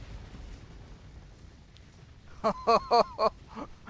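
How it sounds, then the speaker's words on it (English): Explosion in the space game Starsector arrives as a quick cluster of four loud, punchy bursts in close succession over a low rumbling background. "That explosion made me flame out."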